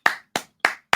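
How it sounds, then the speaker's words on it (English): Four sharp hand claps, evenly spaced about a third of a second apart, close and loud with quick decay and nothing else in between. "Okay, stop clapping."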